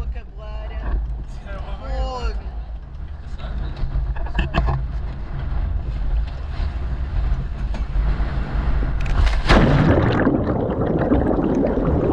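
A motorised dinghy runs back across the harbour to a sailboat off Porto Santo, its outboard droning steadily before surging louder near the end, with water rushing around it and someone speaking over the noise.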